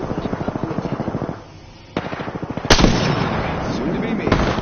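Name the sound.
gunfire in a PS4 video game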